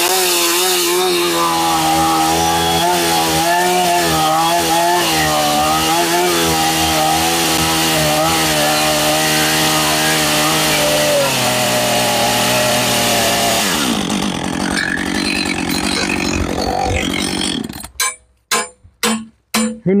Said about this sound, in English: Just chainsaw that off.